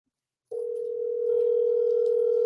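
An outgoing phone call to a family member produces a steady electronic calling tone that starts abruptly after a short silence and holds evenly and clearly to the end, with no voices.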